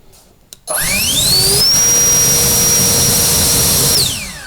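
A Chinese turbo blower fan at its second speed spins up with a rising whine and holds a loud, steady high-pitched roar before starting to wind down.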